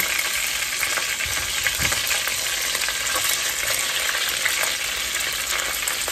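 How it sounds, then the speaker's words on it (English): Mushrooms and onions fry in hamburger grease in a pan, crackling in a loud, continuous close-up sizzle with a few faint utensil knocks underneath. "But I'm going to first throw in my mushrooms and my onions right after I drain off some of this grease"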